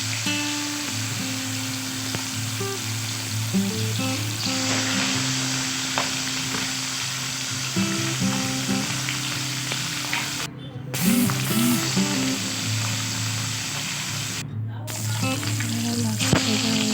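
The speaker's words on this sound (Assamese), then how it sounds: "মাছখিনি আগত ভাজি ল'ম।" Pieces of fish fry in hot oil for an Assamese potato and tomato fish dish. A steady sizzle and crackle runs throughout, close and fairly loud, with a low hum underneath.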